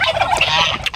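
A pet turkey gobbles in one short, rapid, warbling burst, close by and fairly loud.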